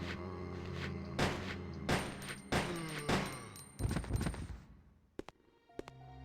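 Gunfire from the Resident Evil Code Veronica video game: a string of loud, booming shots with ringing tails at irregular intervals, then a few faint clicks and taps as the shooting dies away.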